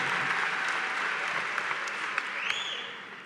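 Steady applause fills a high school graduation ceremony at Clarkston High School, a dense continuous clapping from a large audience that stays loud throughout and tapers slightly at the end, with a few sharper claps and faint voices under it.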